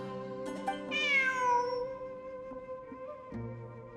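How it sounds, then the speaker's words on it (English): Genshin Impact's in-game cat lets out one clear, rising meow that trails off, set against a sustained musical tone from the game's soundtrack. "Look, a cat."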